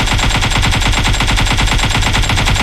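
A battle royale video game weapon fires one sustained, loud automatic burst of evenly spaced rapid shots, close up and uninterrupted, with no voices.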